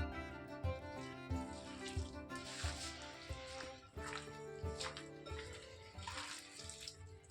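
Water mixed with maida flour is poured into onion vada batter, a steady liquid splash and trickle running throughout with no voices.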